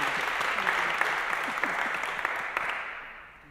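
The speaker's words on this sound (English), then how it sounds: "we can clap now." Audience applause at a book launch, a steady wash of clapping from a small crowd that fades toward the end.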